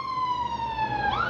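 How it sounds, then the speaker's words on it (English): An ambulance passes near a house beside a hospital, its siren holding a steady tone, then sliding upward in pitch, loud and alone. "Ambulance is coming."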